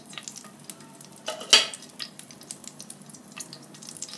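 Green cardamoms and cloves frying in hot vegetable ghee, a soft steady sizzle with a brief louder crackling burst as the spices hit the fat, no talking.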